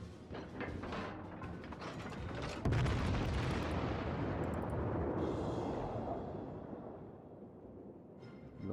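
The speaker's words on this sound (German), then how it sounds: "Also das Schiff ist unter Feuer." Heavy booming naval gunfire in the video game World of Warships, with rumbling blasts and mechanical clatter, a loud burst midway that slowly fades into a low roar.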